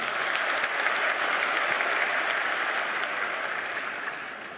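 Sustained applause from a large crowd, dense and even throughout, slowly tapering slightly toward the end.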